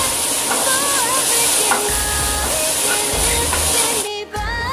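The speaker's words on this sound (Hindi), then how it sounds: "अब हम इसमें प्याज फ्राई करेंगे।" Onions frying in oil in a kadai, a continuous sizzle and hiss with a few stirring scrapes, steady and fairly loud, while a voice speaks over it.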